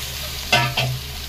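Mutton pieces dropped into a pan of browned frying onions, two quick close scraping clatters over a steady low sizzle, with no speech.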